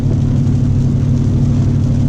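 Steady low engine drone from a car running the OZ Tuning Omega tune as it shifts into sixth gear at about 55 mph on the highway, a continuous in-cabin hum with no break and no talking.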